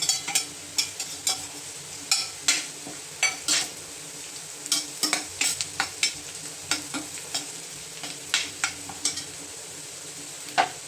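Onion softened in oil sizzles as red masala, turmeric and coriander powder go in, with repeated sharp scrapes and clinks of a spoon stirring against the pan over a low, steady fry.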